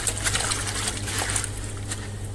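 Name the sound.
washing spinach in plenty of cold water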